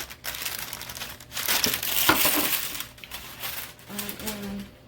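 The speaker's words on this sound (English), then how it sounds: "So, parchment paper, almost out." Parchment paper is handled and crinkled in a burst of papery rustling, followed by a person speaking.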